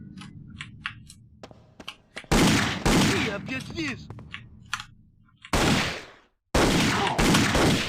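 Gunfire from the video game Indiana Jones and the Infernal Machine, with loud bursts of shots in several blocks between quieter stretches, and someone talking over parts of it.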